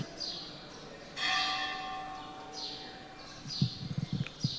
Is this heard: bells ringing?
yes